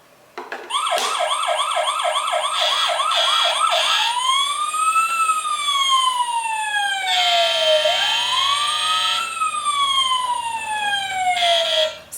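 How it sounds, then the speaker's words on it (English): A toy fire truck puzzle plays an electronic siren, starting with rapid warbling yelps and then shifting into slow rising-and-falling wails, loud, close and continuous with no talk. "now your child is also starting to learn what sound does a fire truck make?"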